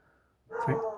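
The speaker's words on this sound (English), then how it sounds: "The dog's making noise in the background." A dog barks once in the background, a short muffled yelp that rises suddenly after a quiet indoor lull and fades slightly.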